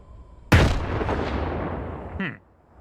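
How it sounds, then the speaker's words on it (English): A sudden loud explosion in the video game STALKER 2 Heart of Chornobyl: a sharp, heavy blast followed by a rumbling decay lasting about two seconds, then a brief whooshing tail, with no speech. "An explosion."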